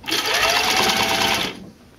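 A sewing machine stitching a Y back racer tank top, one steady, loud, close burst of rapid whirring that lasts about a second and a half and then stops.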